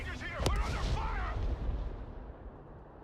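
Gunfire and artillery in the video game Broken Arrow: a sharp close blast followed by rumbling booms and crackling shots that fade into a distant low rumble, with a radio-style voice heard briefly.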